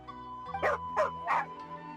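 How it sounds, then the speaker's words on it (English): A dog in Genshin Impact gives three quick, evenly spaced barks, close and clear, over a soft steady background hum. "Here, doggy. Good doggy."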